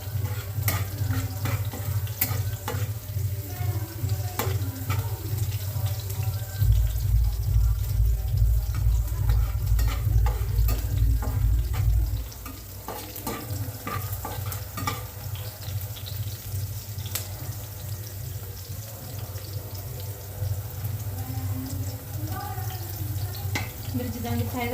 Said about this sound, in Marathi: मिरची चांगली फ्राय होत आहे आपली।